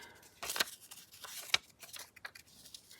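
A sheet of watercolor paper is folded in half with rustling crinkles and two sharp creasing swishes, close and fairly quiet, with no talking.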